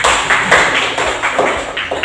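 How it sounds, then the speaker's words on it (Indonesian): A group of students in a classroom clap their hands in a few uneven bursts, close and fairly loud, with sharp broadband slaps repeating across the moment. "Tepuk tangan."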